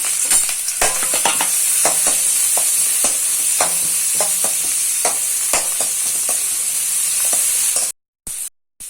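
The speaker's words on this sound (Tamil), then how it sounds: "பெரிய வெங்காயத்தையும் பச்சை மிளகாவையும் சேர்த்து வதக்கிக்கலாம்" Onions and green chillies sizzle steadily in hot ghee for a chicken biryani, with frequent scraping clicks from stirring over the constant hiss. The sound cuts out near the end.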